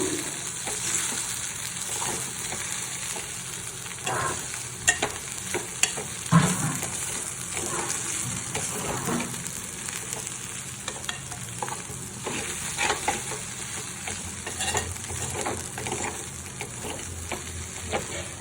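Kanda batata pohe, flattened rice with onion and potato, is stirred and mixed in a pan over lowered gas, with continuous scraping spoon strokes over a soft, steady sizzle, close and fairly loud with no talking.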